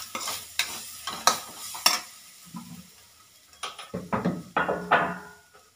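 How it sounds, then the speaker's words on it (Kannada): A tempering for chitranna is stirred in a pan, a spoon scraping and knocking against the metal in a string of short, sharp strokes, with a faint sizzle between them. "ಇವಾಗ ಚಿತ್ರಾನ್ನ ರೆಡಿಯಾಗಿದೆ, ಅಂದರೆ ಒಗ್ಗರಣೆ ರೆಡಿ ಮಾಡ್ಕೊಂಡಿದ್ದೀನಿ"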